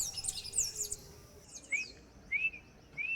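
Birds call at dawn in a Panama rainforest canopy, heard from an observation deck: quick twittering chirps come first, then a few separate rising whistles, moderately close, over a quiet forest hush.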